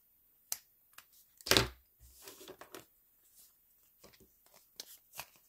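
Aluminium foil being trimmed of its excess by hand, giving a few sharp crinkling snips and rustles, one louder burst near the middle, with quiet gaps between the short bursts.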